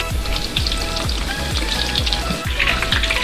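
Fish fillets searing in a hot pan on a fishing trip, giving a steady close sizzle with repeated low thumps and crackles throughout, no talking.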